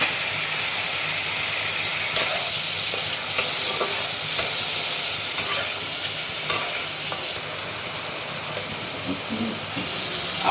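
A spice masala of ginger paste, dry chili powder and cumin powder is sautéed in a pan for paneer curry, with a loud, continuous close-up sizzle and occasional faint clicks of stirring.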